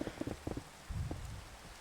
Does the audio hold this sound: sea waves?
no